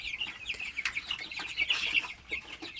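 Chickens raised on a farm for eggs and meat cluck and squawk in a busy, overlapping chorus, close by and fairly loud, with no voices.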